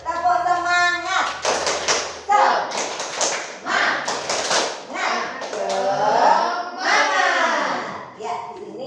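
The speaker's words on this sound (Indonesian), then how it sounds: "mari kita tepuk semangat terlebih dahulu" A classroom of pupils performs a rhythmic clapping chant, with bursts of claps and taps mixed with young voices chanting in unison, close and lively, in uneven phrases over about nine seconds.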